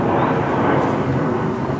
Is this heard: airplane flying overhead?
yes